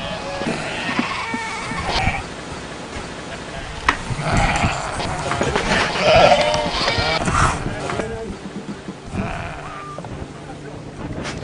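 Sheep bleat repeatedly in an open Scottish countryside setting, several calls near and mid-distance, with wind and a voice talking underneath.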